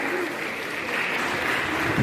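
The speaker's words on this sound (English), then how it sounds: "big round of applause" A crowd at a school Model United Nations championship gives a big round of applause for a distinguished delegation, a thick, sustained wash of clapping throughout, with a voice faintly present alongside.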